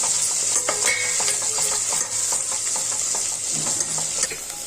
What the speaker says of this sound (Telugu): ఇప్పుడు అల్లం వెల్లుల్లి పేస్ట్ వేసుకోవాలండి ఒక టూ టూ టేబుల్ స్పూన్ వేసుకోవాలి అంతా కలుపుకోవాలి